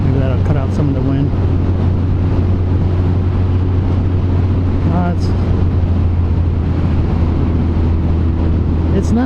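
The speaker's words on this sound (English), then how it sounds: "Maybe that'll cut out some of the wind." Steady roar of wind buffeting a rider's helmet on a first-generation Suzuki Hayabusa motorcycle, loud and continuous with a low engine drone beneath, a voice briefly heard over it.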